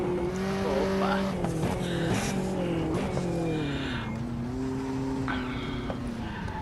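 A Volvo 240 Turbo race car slides through a corner on a street circuit at Pau, its turbo engine droning loudly with sustained tire squeal rising and falling throughout.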